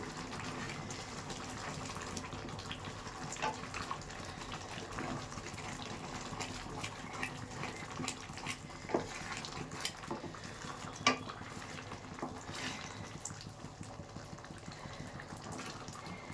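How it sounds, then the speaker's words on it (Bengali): A little water being added to a pot of pea ghugni makes a soft, continuous trickle and gurgle of pouring liquid, quiet and close, with faint clinks and no talk. "সামান্য পরিমাণ জল, আর একটু জল দেওয়া হচ্ছে ঘনত্বটা ঠিকঠাক রাখার জন্য"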